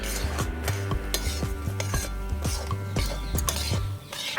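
Gram flour roasts in ghee in a pan for mohanthal, a spoon scraping and knocking against the metal in a steady rhythm of about two strokes a second over a soft sizzle and a low hum.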